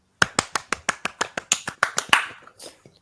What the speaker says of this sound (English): a tiny, tiny little round of applause as he rejoins us